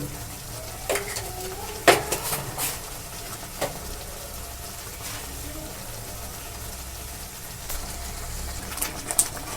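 Pasta is stirred in a pan with black salt and Kashmiri chilli powder, soft sizzling under intermittent scraping and clinking of the spatula, with faint background chirps.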